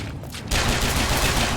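Enemy gunfire in BioShock Infinite: Burial at Sea, a sudden loud burst of rapid shots breaking in after a quieter start and continuing as a dense, close volley.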